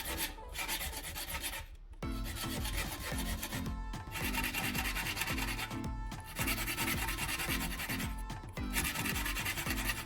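A metal file rasps back and forth across handsaw teeth to sharpen the blade, in long steady strokes with a few brief pauses, close and prominent with no talking.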